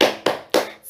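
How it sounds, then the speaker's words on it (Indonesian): Three sharp, rhythmic hand claps in a primary school classroom chant, evenly spaced and close, with nothing else audible between them. "Tepuk semangat"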